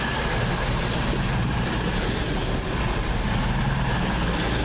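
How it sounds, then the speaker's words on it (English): A CrossCountry passenger train from Newcastle to Reading pulls into Doncaster station, a steady loud rumble of rolling wheels and engine noise filling the platform with no break. "As the 1559 cross-country service from Newcastle to Southampton, no, Reading comes in"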